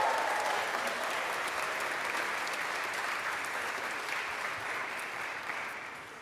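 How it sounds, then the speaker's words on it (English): A graduation audience at a convocation applauds in a steady, even wash of many hands clapping, distant and fairly soft, with no voices on top, for about six seconds. "Come on. Applaud yourself. You're at a graduation."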